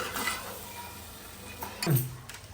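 Chilli masala is stirred into pav bhaji in a pan, with a soft sizzle underneath and a louder scrape of the spoon near the end.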